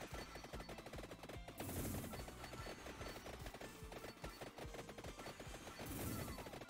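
Contra guns in the roguelike game Gone Rogue blast away in rapid, dense bursts of gunfire with impact crashes, a relentless rattling stream broken by two louder swells.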